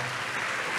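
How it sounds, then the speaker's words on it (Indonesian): Church congregation applauding warmly during a sermon, a dense, even wash of clapping. "Tepuk tangan dulu yang paling meriah buat Tuhan."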